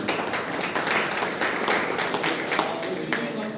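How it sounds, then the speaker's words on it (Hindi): Audience applause for a man being honoured at a Hindi-language talk, a steady crowd of clapping that fills the whole stretch with dense overlapping claps, moderately loud and continuous. "तो मैं चाहूँगा कि सुनील के लिए जोरदार ताली।"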